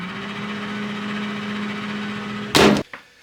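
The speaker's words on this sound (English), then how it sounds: "The moment you open the door, the microwave keeps running." A Panasonic microwave oven keeps running with its door open, a steady close electrical hum with fan and turntable drone, then a sudden loud clunk and rattle near the end before it quiets.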